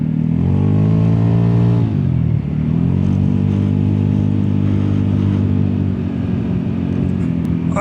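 A Vespa GTS 300 scooter engine drones steadily while riding, close and fairly loud, with a falling note near two seconds before settling back into an even hum for the rest of the ride.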